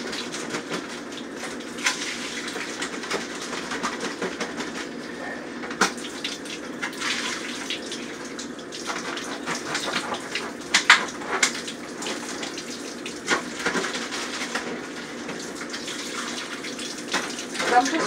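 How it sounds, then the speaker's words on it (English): Tap water runs steadily into a kitchen sink while a food container is rinsed and washed, a continuous close splashing gush with small clinks and knocks throughout, no talking. "I'm going to wash and keep the container."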